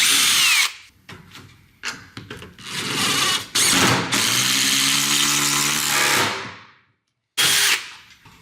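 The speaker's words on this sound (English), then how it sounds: "We want to drill and countersink all the holes and use flat head fasteners." Power drill boring and countersinking holes in a sunroom head ledger, several loud whirring bursts of varying length separated by short pauses, one long pass winding down to silence before a final brief burst, close up.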